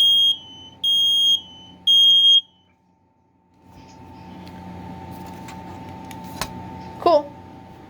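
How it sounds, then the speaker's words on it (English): A Family Guard FG200 ionization smoke alarm under test gives three loud, piercing beeps, followed by quiet room noise with faint background voices. "we have a Family Guard FG200. This is an ionization smoke"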